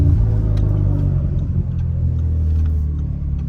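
Audi TTS fitted with a Milltek exhaust idles with a deep, steady burble, low and rumbling close by, with slight unevenness and no voices.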